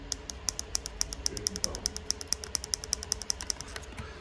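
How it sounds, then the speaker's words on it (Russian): Sharp, crisp clicks repeat at a steady rapid pace, each one small and close: the volume button on counterfeit Apple EarPods with Lightning connector being pressed over and over. "На регуляторе громкости копия всегда будет издавать вот такой щелчок."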